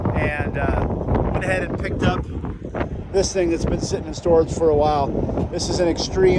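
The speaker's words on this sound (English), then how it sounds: "it's really windy out here" Heavy wind buffets the microphone outdoors in gusty low roaring bursts, loud and constant under a man's speech.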